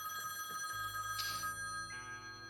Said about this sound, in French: Le fameux téléphone qui sonne.